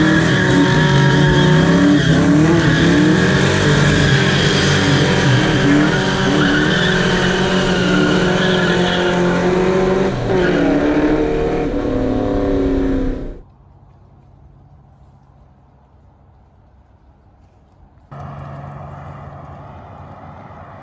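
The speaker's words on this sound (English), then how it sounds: "do some smoky burnouts with a group of guys that just love to burn rubber" Smoky tire-squealing burnouts from a car at a night car hangout, a loud sustained screech and engine roar lasting about thirteen seconds before cutting off abruptly to near quiet, then a fainter rumble returning.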